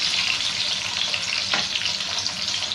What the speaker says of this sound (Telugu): టమాటా వేసుకుందాం అలాగే అల్లం ఒక రెండు నిమిషాలు అల్లం వేసుకున్నాము